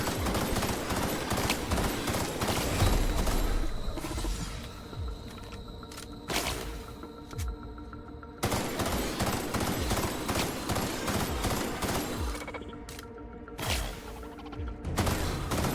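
Gunfire in the sci-fi role-playing game The Outer Worlds during a fight with robots, with repeated rapid bursts and single shots, loud and nearly continuous, broken by short quieter gaps.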